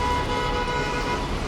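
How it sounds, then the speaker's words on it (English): Car horns honking on a downtown Los Angeles street, sitting within a dense, continuous wash of traffic and roadway noise. "Why are you guys honking?"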